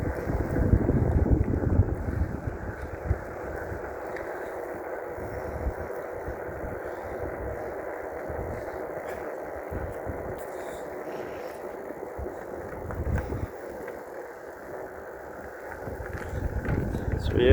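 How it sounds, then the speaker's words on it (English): Wind buffets an open microphone while riding a bike outdoors, a steady low rumble and roar running throughout with heavier gusts at the start and near the end. "the wind is not too bad today"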